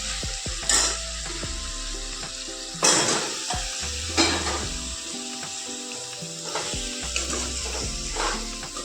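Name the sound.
local chicken meat frying with masala in a pan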